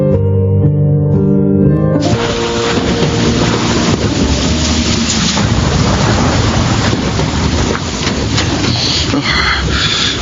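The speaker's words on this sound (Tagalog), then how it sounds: "Ruben, Kuya Nanding, bakit sinugod mong malakas na ulan?" Heavy rain during a Filipino drama scene, a dense, steady roar of downpour that swells in after a brief musical passage and holds loud and unbroken to the end.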